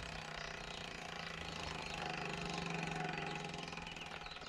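Maxxis ID360 rear hub freewheeling on a Focus Jam 8.9 mountain bike, a dense, steady buzzing ratchet whir held at even loudness for several seconds, close up with no voices.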